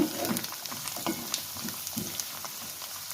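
Coriander leaves frying in hot oil, the gas turned off, crackle and sizzle with crisp, scattered pops and a soft steady hiss, close and fairly quiet, for garlic chutney.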